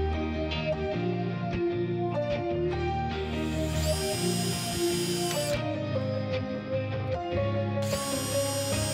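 A drill opening holes to 3/16 inch in a Zenith 750 Super Duty aircraft fuselage gives two short, high-pitched whining runs over steady background music.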